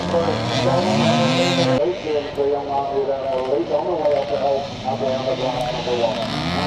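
Several 125cc and 250cc motorcycles, among them a Kawasaki KX250 and a Husqvarna, race in a combined classic charity scramble in Northern Ireland, their loud engines revving and whining up and down in overlapping tones.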